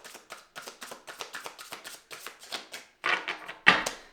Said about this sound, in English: I love these cards. They're beautiful, easy to shuffle.